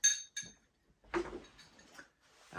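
A glass of lemonade clinks a few times: sharp, bright taps near the microphone in quick succession, followed by softer handling knocks and rustles in a quiet room.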